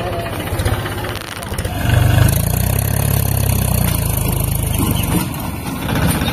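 A tractor engine runs steadily for paddy threshing in a village, a loud low chugging drone that swells and holds with continuous rhythmic thumping.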